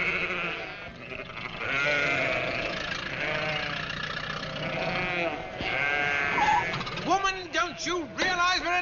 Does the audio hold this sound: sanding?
no